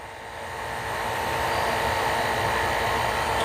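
Pressurised nitrogen hisses steadily into an LG refrigerator's sealed system during a compressor replacement, a broad, even rush that swells slightly at the start and then holds constant.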